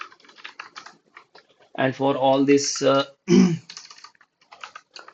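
Typing on a computer keyboard while entering a repository URL: light, irregular clicks throughout, with a burst of speech in the middle partly covering the keystrokes.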